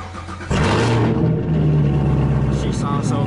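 A car engine kicks in abruptly and revs, then settles into a loud, rumbling idle close by, its exhaust prominent, with someone talking over it.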